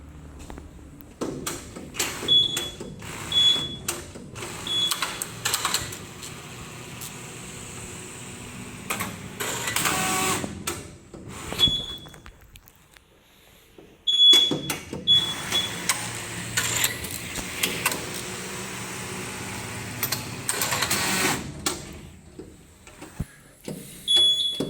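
Flat knitting machine running a needle transfer test after a solenoid repair, giving two long stretches of mechanical whirring and clatter with sharp high beeps, separated by a quiet pause, no talking.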